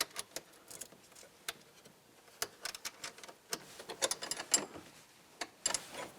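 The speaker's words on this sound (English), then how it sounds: "Take off the nut on the end and then put our 8-inch ground wire over it." A nut being taken off the ground terminal of a Kawasaki Mule, heard as a run of small, irregular metallic clicks and ratcheting ticks, close and fairly quiet, with no talking.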